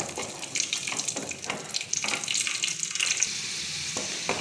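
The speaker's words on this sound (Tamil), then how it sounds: "முந்திரி வறுபட்டு திராட்சை இதெல்லாம் உப்பி வரும்போது இறக்கிடலாம்" Cashews with black and white raisins fry in melted ghee, making a close, bubbling sizzle with intermittent spatters and stirring clinks throughout, and no voices.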